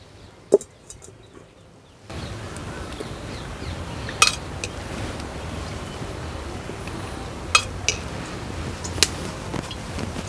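A metal kadai is set down and oil is spooned into it, giving a few sharp clinks and clanks of metal against metal at intervals over a low kitchen background hum, all fairly close.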